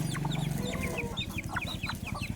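Chickens clucking at feeding time beside a pond, a busy close chorus of short clucks and calls going on without pause, with no talk.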